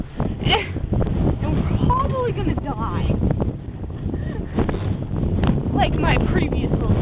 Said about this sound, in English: it's super windy, wavy, and this boat is really, oh geez.